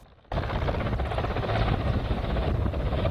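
Military aircraft flying overhead during a NATO training exercise involving up to fifteen planes, a loud steady roar that starts abruptly and holds for the rest of the clip.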